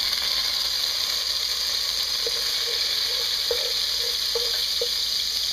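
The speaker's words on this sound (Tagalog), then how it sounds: "Once na mainit na yung oil, ilalagay na natin dito yung garlic." Garlic sizzling in hot cooking oil in a pot, a steady loud hiss with a few soft clicks and stirring taps.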